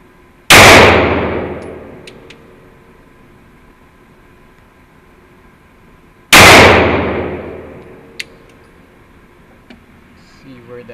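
Two Staccato P pistol shots fired at a range target from 21 feet, each a sharp, loud crack with a ringing decay, spaced about six seconds apart in an otherwise quiet setting.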